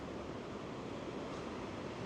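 Surf on the Oregon coast rolls in as a dense, steady roar of breaking waves with wind noise over it, unbroken and fairly loud throughout.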